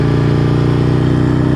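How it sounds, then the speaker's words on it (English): An Aprilia motorcycle engine braking, a loud steady mid-pitched engine drone with a pulsing burble, heard close and continuous throughout with no talk. "Oh, the engine braking is brilliant."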